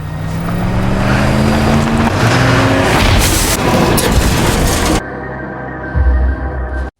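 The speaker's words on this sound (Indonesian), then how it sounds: "Mobilnya jatuh menuruni lereng" A car tumbles down a forest slope, a loud, dense roar of crashing and scraping that cuts off sharply, followed by a quieter rumble and one final thud.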